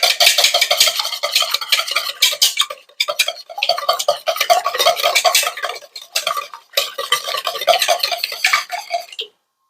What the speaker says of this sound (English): we are just going to whisk this up real quick